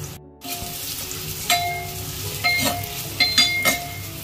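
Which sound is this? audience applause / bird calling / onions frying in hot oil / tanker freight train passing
onions frying in hot oil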